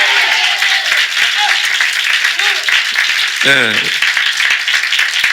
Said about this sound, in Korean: 부활하신 것을 믿는 분들 우리 아멘 하면서 크게 하나님께 박수로 영광 돌리겠습니다